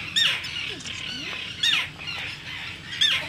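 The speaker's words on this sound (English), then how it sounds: "Oh, it's a common tern." Common tern fledgling on Great Gull Island, still losing its down and growing flight feathers, gives three loud, harsh squawks spaced about 1.5 seconds apart against steady outdoor background noise.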